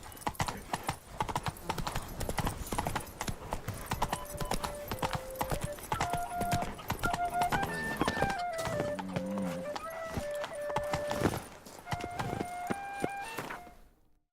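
A horse gallops in The Witcher 3: Blood and Wine, hooves clip-clopping in a fast steady rhythm close by, with a brief whinny and a tonal game score playing underneath.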